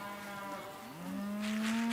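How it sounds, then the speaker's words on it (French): A Highland cattle beast gives one long, rising moo that swells in loudness, close by on a hot day, with no talking. "les Highlands, c'est une race originaire d'Écosse"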